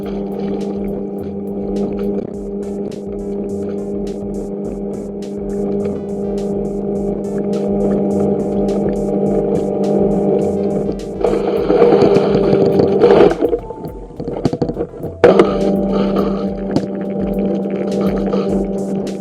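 An Aiper HJ1102 smart robot pool cleaner runs underwater in a pool, giving a steady, close motor hum with tonal whine that swells into louder churning rumble partway through before settling back.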